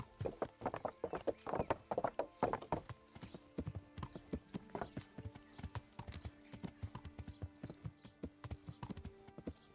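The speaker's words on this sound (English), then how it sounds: "That is so cool that my horse can jump that." A horse gallops in Kingdom Come: Deliverance, with rapid, loud hoofbeats in an uneven rhythm that pound on without pause, closer and heavier at first and then continuing steadily.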